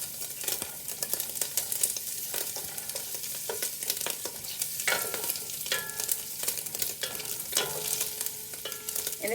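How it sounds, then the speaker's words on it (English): A tablespoon of butter melts in a pot that holds bacon, giving a continuous close-up sizzle and crackle with scattered pops and stirring clatter, and no voices. "we are going to add a tablespoon of butter, and we'll just make that melt a little"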